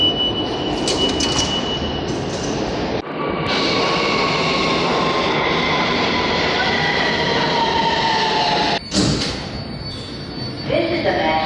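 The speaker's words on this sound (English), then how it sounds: "This is a Manhattan-bound and local train." A Manhattan-bound local New York City subway train roars steadily inside the car, with a loud sustained rumble and whine, a sharp clunk near the start and another later, and a faint voice briefly audible.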